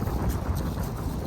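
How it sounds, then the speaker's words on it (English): Strong wind on a beach buffets the microphone in a continuous low rumble with gusty, rushing surges and no clear voices. "It's too windy to talk."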